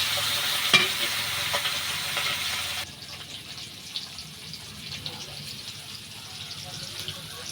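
Steady sizzling of fish frying in a pan on a clay stove, with a stirring scrape early on, fairly close; the hiss drops in loudness partway through and continues softer.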